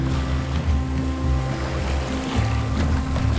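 A 45-year-old sailboat crosses the Atlantic from the Canary Islands toward the Caribbean, with a steady low hum and rush of water and wind against the hull, constant and close, with no voices.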